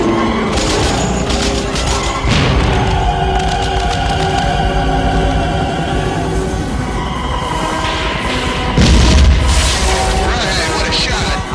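Firework tanks explode in a chaotic barrage of loud, close booms and crackling bursts, with dense overlapping blasts and a heavier thump near the end, while voices shout underneath.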